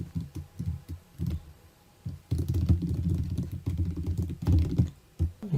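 Someone types a printf command into a C program on a computer keyboard, a close run of quick key clicks in irregular bursts with short pauses.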